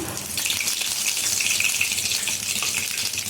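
Mustard seeds and curry leaves sizzle in hot oil while a coconut chutney tempering is made, a steady, dense crackling hiss that holds evenly and closely with no talk.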